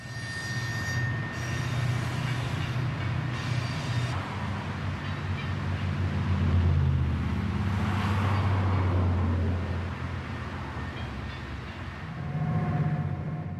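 A loaded coal train climbs through the mountain pass at Castle Gate, a steady low rumble of locomotives and rolling wagons with occasional wheel squeal, loud and close throughout with no voices.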